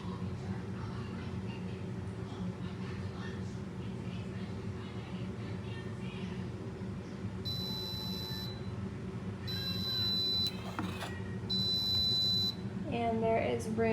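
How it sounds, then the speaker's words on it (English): A Mecity 3-in-1 single serve coffee maker beeps when brewing is done, sounding three evenly spaced high electronic beeps over a steady low background hum. "It'll still drip a little bit until it beeps."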